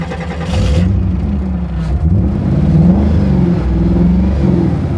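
A hot rod car engine cranks and catches, then settles into a loud, steady, throaty rumble with slight rises in revs, heard close up and alone.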